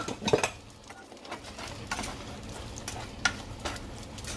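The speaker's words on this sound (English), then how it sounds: "You stir." A utensil stirs vegetables seasoned with Maggi in a pot, giving soft scraping and clinking over a gentle sizzle, with a few sharper metallic knocks.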